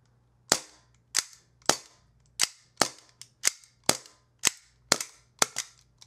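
A WE-Tech 1911 MEU airsoft pistol fires eleven sharp, loud snapping shots one after another at an uneven pace, each crack decaying quickly, with no talking.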